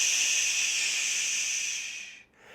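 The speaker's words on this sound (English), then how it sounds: "Now you're going to breathe in and you're going to make a loud shushing sound like this." A loud, sustained shushing hiss pushed out on a long exhaled breath as a breathing exercise, steady and close before trailing off, with no other voices.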